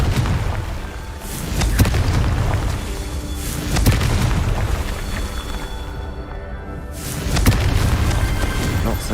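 A Confringo fire spell explodes in Hogwarts Legacy, heavy booming blasts rolling over dense continuous rumble and crackle, with several loud impacts recurring every couple of seconds.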